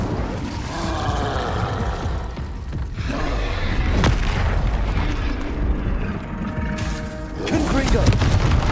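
Fire spell effects in the Hogwarts Legacy video game: repeated whooshing bursts and booming impacts of an Incendio cast in combat, loud and layered, with a voice calling out spell names over the blasts.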